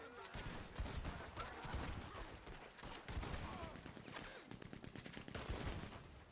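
Rapid machine gun fire in Red Dead Online rattles in dense, continuous bursts at mid distance, fairly quiet overall, with a few heavier thumps mixed in.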